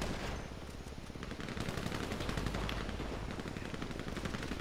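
Gunfire in a GTA video game, including sniper shooting: dense rapid bursts of shots, loud and continuous throughout the short stretch.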